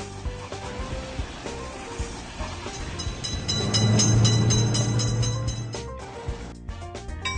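In a railroad crossing mobile game, a passing train builds to a broad rumbling roar around the middle and then recedes, over steady background game music with bright tonal notes.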